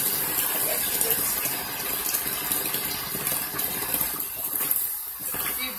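Hot water running steadily from a tap, a continuous close splashing gush throughout with no talking.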